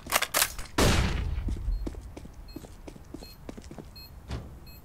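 A flashbang grenade detonates in a tactical shooter game, a sharp loud bang followed by a ringing, fading wash, amid earlier gunfire cracks and scattered small clicks and taps.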